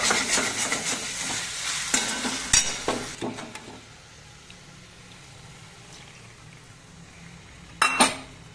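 Spice paste stirred and fried in a pan for dhaniya paneer, with a spatula scraping and clinking against the metal over a soft sizzle, busier at first then quieter, with a brief burst of clatter near the end.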